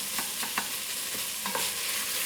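Garlic-shallot puree sizzling in a pan for shakshuka, a steady hiss punctuated by several short scraping knocks as it is swirled, close and moderately loud, no voices.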